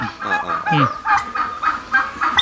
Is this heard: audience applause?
no